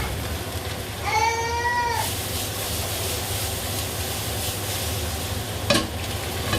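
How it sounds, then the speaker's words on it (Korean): Onions and mushrooms sizzling steadily in a pan for a red wine gravy, with a brief high whining tone early on and a sharp clatter near the end. "약간의 단맛을 위한 양파를 볶고 고소함을 위한 버섯을 넣어줍니다"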